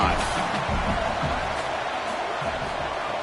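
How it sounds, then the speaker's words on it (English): Constant roaring stadium crowd in a college football video game, a loud dense wash of noise at a conference championship game, steady throughout. "the crowd really making some noise now, trying to help out this defense to get this stop near the goal line"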